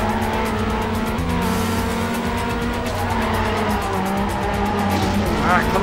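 A race car in Trackmania drifts through corners, its engine droning steadily under long tire squeals, with a voice talking over the continuous racing noise.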